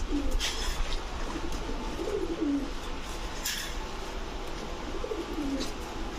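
Bagha pigeons cooing softly, a male and female pair with red eyes, a few low rolling coos spaced apart over a faint steady background, no talking.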